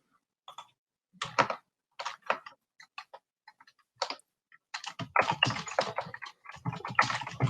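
Irregular bursts of keyboard typing, close and fairly loud, with short pauses between clusters of key clicks, growing denser toward the end.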